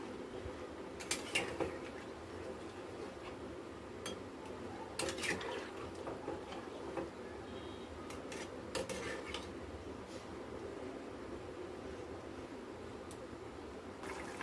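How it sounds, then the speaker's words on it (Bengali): Curry of hilsa fish and pumpkin being stirred in a pot after water is added, with a few clinks of a spoon against the pot over a soft, steady bubbling bed. "জল দিয়ে ভালোভাবে একটু নাড়িয়ে চাড়িয়ে নেব"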